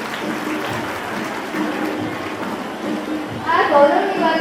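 Applause from an audience at a community award ceremony honouring high-achieving daughters of the Kshatriya Rajput community, a steady crowd clapping that swells louder toward the end, mixed with room murmur.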